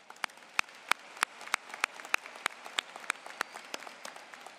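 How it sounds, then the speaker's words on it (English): Sparse applause rises from a college commencement audience: a handful of sharp, distinct claps ring out over a faint wash of quieter clapping, steady and moderately distant. "Let's give them a big round of applause as well."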